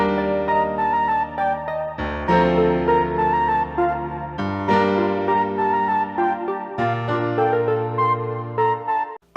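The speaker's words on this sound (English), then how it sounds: "For my last melody, I'm going to use a piccolo" A piccolo melody, quantized with randomized note velocity, plays over a beat, bright sustained high notes shifting over held low chords, loud and steady with no voices.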